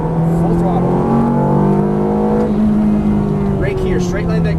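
A Ferrari F430 F1 at full throttle on a track, the engine droning loud and close with a rising pitch as it accelerates, while a driving instructor talks over it.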